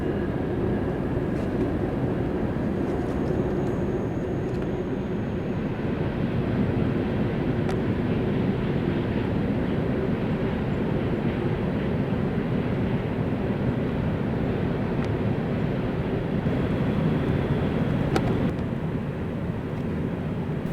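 A CSX freight train rounds a horseshoe curve along the New River, giving a steady low rumble and rolling drone of wagons that holds at even loudness throughout, with faint squeals now and then.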